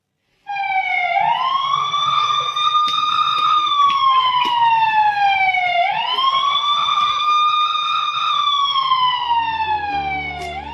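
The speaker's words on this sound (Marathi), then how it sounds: "आता तुम्ही म्हणाल हा सायरन कसला?" A loud village siren, sounded to call students to study, wails steadily, its pitch rising and falling in long slow sweeps that repeat twice, with faint background rumble.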